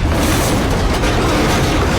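Dense, continuous explosion rumble from the 2002 action film Ballistic: Ecks vs. Sever, loud throughout with a sharp burst at the very end.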